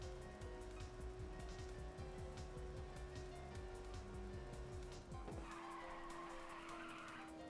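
A race car engine in the PSP video game Ridge Racer 2 roars steadily with the gas held down, mixed with tire screech, then changes pitch and tone sharply near the end of the run.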